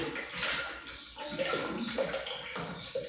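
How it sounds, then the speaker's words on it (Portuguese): Water from a filter pours into a container in a steady, soft rushing stream, fairly quiet and close, with no voices. "Tô pegando água do filtro pra encher aqui."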